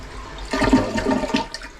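A toilet flushes with a strong rush of water starting about halfway through, preceded by a quieter hiss and continuing as a loud gurgling swirl.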